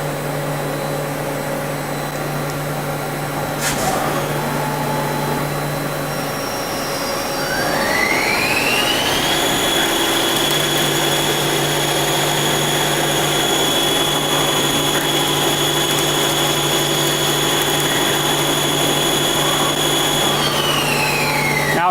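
A Mazak CNC lathe runs with a steady machine hum. About seven seconds in, a high whine rises and settles into a sustained tone as the turret indexes to tool 1, a 55-degree diamond insert. No talk is heard.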